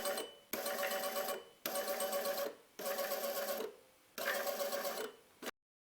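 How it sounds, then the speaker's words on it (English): Small electric motor salvaged from an old printer running at 12V, a buzzing whir switched on and off in five regular bursts of about a second each, separated by short silences. "This motor from an old printer is more powerful, here it's driven with 5V."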